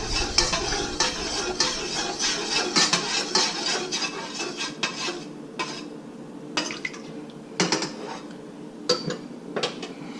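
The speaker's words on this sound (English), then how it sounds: "So let's go over here to priming sugar solution. Let me give it one good mix." A spoon stirs priming sugar solution for bottling cream ale, with brisk scraping and clinking against the container in irregular bursts, then a few sharper knocks after short pauses, close and fairly loud.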